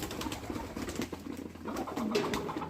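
Pigeons coo softly while feeding, low throaty repeated calls overlapping in an uneven rhythm, fairly close and quiet with faint scratchy rustling around them.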